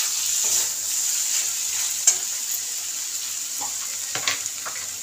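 Chicken frying in a pan with a little coriander leaf added for a spicy lemon chicken fry, a steady close sizzle with a few sharp stirring clinks and scrapes.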